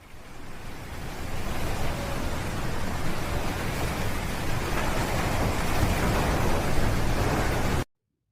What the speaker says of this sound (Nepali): ठुलो हावापानी आउँछ